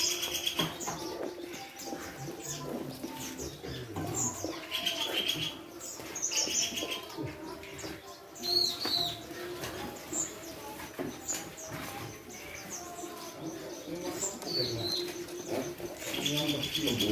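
A caged prinia (perenjak tebu) gives high, thin chirps and calls at a songbird seller's stall, mixed with other bird calls, cooing and wing flutters over a steady murmur of background noise.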